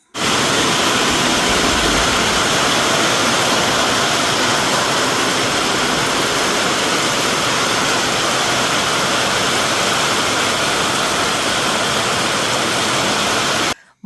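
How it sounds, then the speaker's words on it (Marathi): Heavy torrential afternoon rain pours down in a loud, dense, unbroken roar that holds steady throughout, with no voices. "दुपारनंतर इतका पाऊस झाला इतका पाऊस झाला की विचारूच नका म्हणजे अक्षरशः मुसळधार पाऊस झाला"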